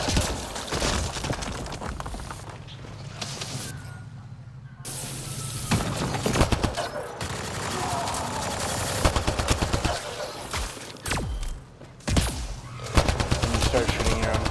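Game gunfire in Mass Effect on the planet Havarl, with dense bursts of rapid weapon fire, explosive crashes and shattering impacts over a busy combat soundscape, broken by brief lulls.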